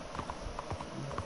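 A horse named Roach gallops down a street in Red Dead Redemption 2, its hooves beating a quick, even clip-clop rhythm at moderate volume.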